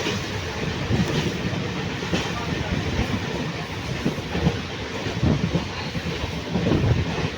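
An MEMU commuter train travels between Nalhati and Azimganj, its wheels rumbling and clattering continuously beneath wind buffeting, a steady moderate ride noise heard from aboard with no talk.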